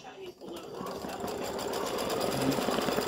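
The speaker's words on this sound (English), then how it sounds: "the first stitch is going to be a tack down to tack this fabric in place before I start stitching" An embroidery machine runs a tack-down stitch on fabric, a steady rapid mechanical chatter that starts after a brief pause and holds close and fairly loud, slowly growing a little stronger.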